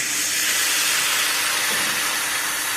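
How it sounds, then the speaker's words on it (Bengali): A cauliflower and egg curry sizzles with a steady, loud hiss right after a little water is added to the hot pan. The hiss continues without pause, and no one speaks. "এবার অল্প একটু জল দিয়ে দেবো জলটা আরেকটু কষিয়ে নেব"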